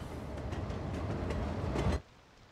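Passenger train in Cities: Skylines 2 rumbling past with a steady rolling, clattering wash and rhythmic wheel knocks that stop abruptly near the end, leaving quiet ambience.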